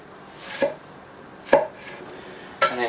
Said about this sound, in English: It makes it easier for cutting tomatoes. And then just like roughly chop it.